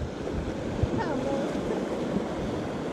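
Continuous broad rush of cold river rapids on the Palomino River in Colombia, mixed with wind buffeting, steady and fairly loud throughout.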